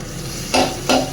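Spices hitting hot oil while cooking doi katla fish: two short, bright sizzling bursts over a low background, close and fairly loud.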